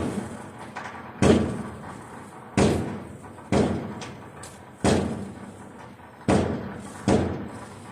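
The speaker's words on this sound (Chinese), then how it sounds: "然后配上这个鞭炮声，刚刚好" Firecrackers go off one at a time in evenly spaced bangs, each with a short echoing tail; no voices.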